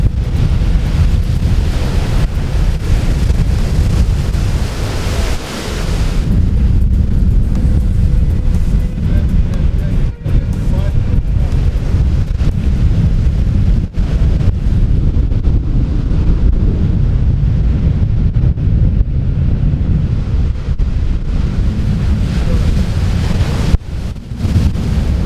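Surf and wind on the open sea off the shore at San Rossore, a loud, continuous roar of breaking waves with heavy wind buffeting the microphone throughout.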